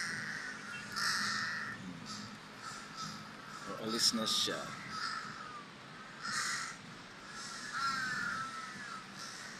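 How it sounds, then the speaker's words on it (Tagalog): Crows cawing in Lumpini Park, Bangkok, several harsh calls repeating near and far through the clip while a person talks over them. "Daming uwak kasi."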